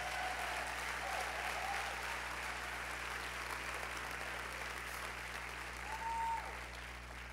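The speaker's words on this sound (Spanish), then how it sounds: "Si le van a aplaudir, apláudale fuerte." Congregation applauding during a church service, a broad steady roar of many hands, somewhat distant and even, with a low hum underneath and faint whistles or cheers rising briefly.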